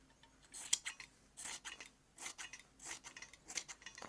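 Scissors trim a fabric scrap for a quilt. Several crisp snips come close together in short, uneven bursts, with no talking.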